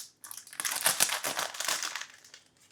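Packaged tart pastry dough being unwrapped in a kitchen, with close, loud plastic crinkling and crumpling that runs continuously for about two seconds and then falls quiet, no talking.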